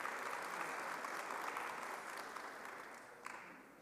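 Conference audience applauding a presenter in Bloemfontein, a soft, steady wash of many hands clapping at moderate distance, tapering slightly near the end.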